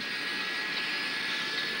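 A steady, loud whooshing roar of an airliner's jet engine under increased thrust in a film scene fills the clip evenly, with no talking.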